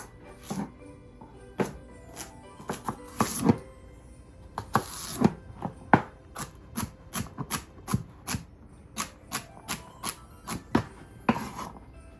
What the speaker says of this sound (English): Let's cut up the celery and the carrots and the onions.